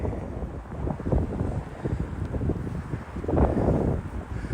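Wind buffets the microphone in low, rumbling gusts that swell and fade, with a stronger blast near the end and no voices, outdoors in a grassy park with trees.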